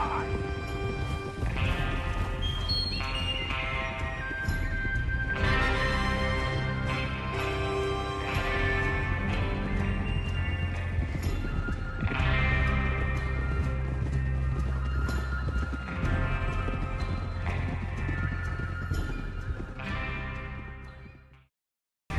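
Horses gallop in Red Dead Redemption 2, with steady clip-clopping hooves and occasional neighs. A musical score plays underneath before the sound fades out at the end.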